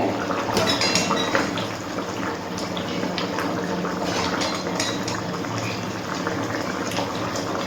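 Rohu fish curry broth with ridge gourd, potato and pointed gourd bubbling at a steady rolling boil in a pot, a dense continuous close-up simmering hiss with soft popping bubbles throughout.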